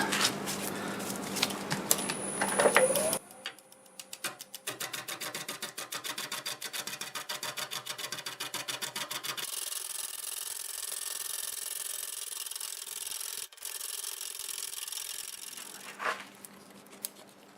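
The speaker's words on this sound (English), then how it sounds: "Let's see how that gouge will handle that now." Turning gouge cutting an English walnut root ball on a lathe, with a rapid rhythmic chattering tick from the spinning uneven wood, a steadier scraping cut midway, and short pauses between passes.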